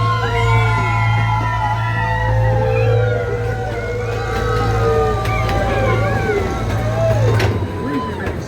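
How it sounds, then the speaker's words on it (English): Passengers on a zoo train ride screaming in a tunnel, many overlapping shrieks and yells echoing, over a steady low rumble of the train. "Here comes the tunnel. Always a fun place to scream."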